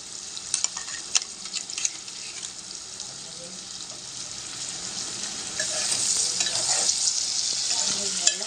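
Ground masala and cashew paste fry in hot oil in a pan for a butter paneer dish, giving a steady bright sizzle that grows louder toward the end, with occasional clinks of a spoon stirring.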